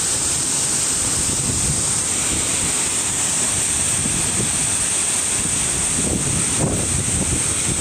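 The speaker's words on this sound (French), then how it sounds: "La cascade de Glandieu dans l'Isère." The Glandieu waterfall in Isère, France, produces a constant broad roar of falling water, heard steadily throughout with some wind buffeting the microphone and no talking.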